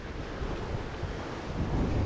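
Ocean waves crest and break steadily around a sailboat running fast and slightly over-canvassed on a solo passage, a continuous broadband wash with wind buffeting the microphone, loud and close, no voices.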